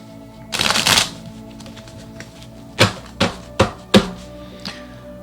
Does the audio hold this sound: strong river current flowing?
no